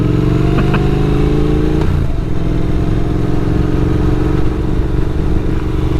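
A motorcycle engine drones steadily on a rough, hilly back road, holding a loud, even pitch that drops briefly partway through as the rider shifts, with no talking.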